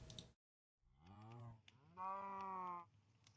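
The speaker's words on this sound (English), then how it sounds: "These cows are actually pretty loud." Cows in the SkyFactory 5 Minecraft modpack, two close, loud moos, a short one followed by a longer sustained bellow, with a brief click before them.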